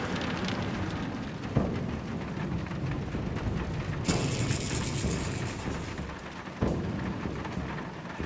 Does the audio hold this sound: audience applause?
no